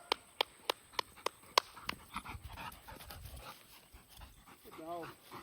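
A hunting dog pants in quick rhythmic bursts close by, about seven sharp breaths in the first two seconds, followed by softer huffing and a brief whimper-like whine near the end.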